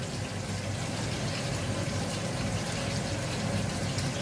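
Water squeezed out of a boiled banana stem while cooking, a steady soft gushing and trickling close by, faint and continuous throughout with no talking.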